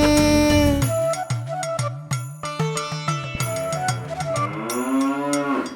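Cow moos ring out over a bouncy children's song with a cowbell-like jingle and rhythmic accompaniment, the lowing carried in the music's foreground.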